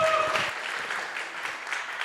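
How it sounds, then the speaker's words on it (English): An audience at a startup pitch competition final claps warmly for a speaker, a dense patter of many hands that holds steady for a couple of seconds. "Warm applause for Piotr."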